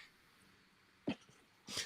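Two short bursts from a person, a sharp sneeze followed a moment later by a second breathy burst, close by against a quiet background during a casual sports chat.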